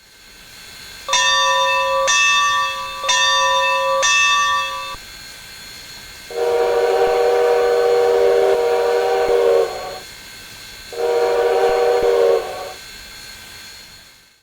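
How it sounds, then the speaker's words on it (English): Steam locomotive whistle of a Colorado & Southern B4D in Train Simulator, sounding in two short blasts, two more, then two long chime blasts, loud and close with no talking. "but at least the whistle is different."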